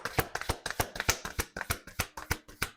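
Playing cards being shuffled up close, a quick run of about twenty crisp riffling snaps in steady rhythm, clear and fairly loud with no voices.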